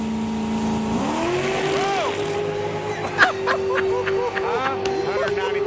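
Ford Coyote V8 engine running, a loud steady drone whose pitch climbs as it revs, with a few sharp chirps and clatters on top and people chatting in the background.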